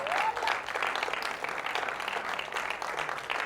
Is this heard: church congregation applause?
yes